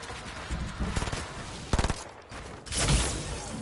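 Video game gunfire from a shotgun-only match: bursts of rapid close shots, with a sharp rattling volley near the middle and heavier blasts toward the end, loud and with no talking.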